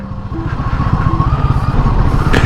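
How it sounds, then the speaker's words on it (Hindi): A loaded motorcycle rides over sand on a mountain road on the way to Munsiyari, its engine close and loud with a steady, pulsing low chug throughout, and no talking. "रेत है, यहाँ स्किड हो रही है बाइक।"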